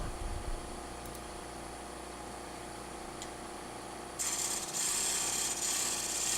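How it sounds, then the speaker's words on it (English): A small 3/8-inch Thompson bowl gouge cuts the foot off a Texas ebony bowl spinning on a wood lathe. It makes a steady close scraping hiss over the motor hum, and the cut grows louder and brighter partway through. "Using a small bowl gouge to take the foot off."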